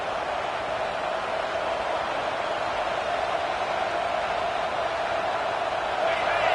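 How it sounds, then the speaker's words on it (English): A dense, steady roar of a huge crowd fills the air continuously, swelling slightly louder near the end. "listen to this crowd noise. This stadium is vibrating."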